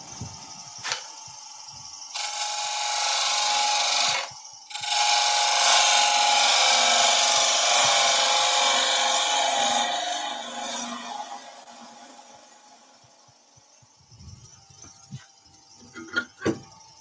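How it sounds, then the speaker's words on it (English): Power tool cutting into oak, apparently a drill at work in a woodworking shop while a tea light candle holder is shaped. It makes a loud, steady grinding whir that runs for several seconds, stops briefly, then resumes and fades away. "drill"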